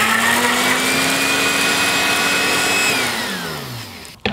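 A food processor grinds fresh parsley, thyme, rosemary, sun-dried tomatoes and finishing salt into a rub, a loud steady motor whine that holds for several seconds, then drops in pitch and stops abruptly.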